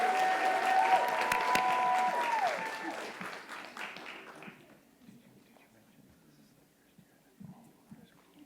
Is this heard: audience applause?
yes